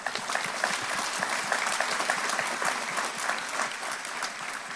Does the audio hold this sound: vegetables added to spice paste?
no